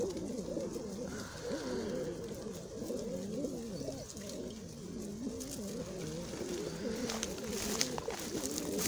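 Several pigeons coo in overlapping low, throaty rolls, continuous and fairly close, in a racing pigeon loft in Murcia, with light chirps and faint rustling above the cooing.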